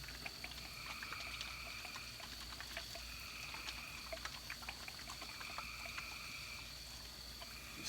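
Steel sauce pours into a warming pan with a faint, steady liquid trickle and light sizzling crackles across the whole clip, heard at low level and without talk.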